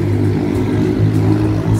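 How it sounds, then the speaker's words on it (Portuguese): Low, rumbling engine drone from noisy motorcycles in a town square, continuous and fairly loud with a steady throb, no talking over it. "Sempre tem uns motoqueiros sem futuro desses, com essas motos barulhentas que eu não aguento."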